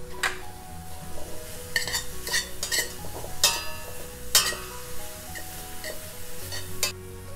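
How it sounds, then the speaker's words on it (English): Spinach cooks down with minced garlic in a pan for Oysters Rockefeller. A spoon scrapes and clinks against the pan in irregular strokes over a soft, steady sizzle, close by with no talking. "Spinach. And we're gonna cook that down."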